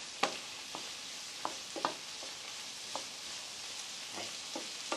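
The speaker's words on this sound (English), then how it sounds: "an onion, a chopped red pepper and a chopped green pepper in the olive oil" Onion with chopped red and green peppers frying in olive oil for a Spanish pisto, a steady soft sizzle with scattered sharp pops and crackles, close and without talk.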